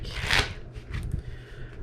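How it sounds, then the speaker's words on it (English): Trading cards for the Weiss Schwarz card game riffle-shuffled up close, a quick loud ripping flutter followed by softer taps and shuffling as the deck settles. "Riffle shuffle up, just to make sure everything is nice and fair."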